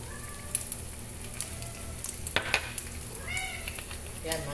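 A cat meows a few times in a kitchen over the faint hiss of eggs frying in a pan, the calls short and fairly close, with soft clinks and a voice speaking quietly.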